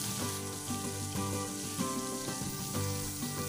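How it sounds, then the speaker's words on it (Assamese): A fish head fries in oil in a wok, giving a continuous close sizzle with steady crackling and an even, constant level throughout. "মাছৰ মাথাটো মই ভাজি লৈছো"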